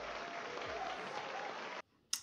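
Brief faint applause for graduating students at a school ceremony in a Swedish drama series, a soft wash of clapping that cuts off abruptly, followed by a short sharp burst.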